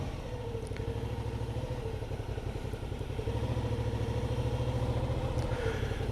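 A Yamaha FJR motorcycle engine rumbles steadily close by in a group of parked and passing bikes, a continuous low throb that swells slightly louder in the second half, with no talking.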